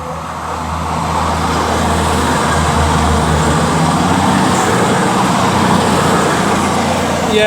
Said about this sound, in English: now about to pass by is going to be 220-022 for cross country